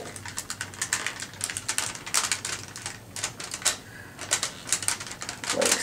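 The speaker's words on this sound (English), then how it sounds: "you're going to fold the edges together and now crease the mountain" Folded paper for an origami flasher being creased and handled, heard as rapid close tapping, crinkling and rubbing sounds that come in uneven bursts over a faint background.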